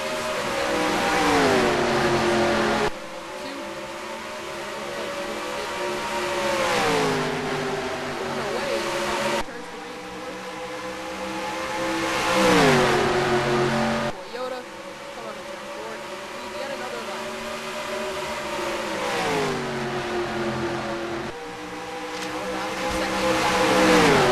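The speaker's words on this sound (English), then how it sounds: "Green flag coming back out. We're racing again at Dover." Race car engines roar at Dover in a racing video game, a loud steady drone with repeated rising and falling pitch sweeps as cars pass and shift, cut into segments, with a commentator talking over it.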